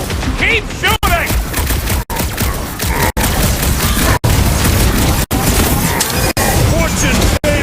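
Dense gunfire and blasts in a Marvel's Guardians of the Galaxy battle, loud and continuous with booming impacts, while character voices speak over the shooting.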